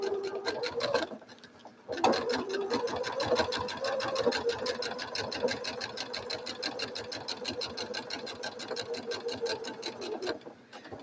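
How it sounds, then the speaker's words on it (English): Sewing machine stitching quilt fabric about an eighth of an inch from the edge, a fast steady needle rattle that runs close and continuous, with a short pause near the start before it resumes. "you just come in here and sew it about 1/8 of an inch away from the edge"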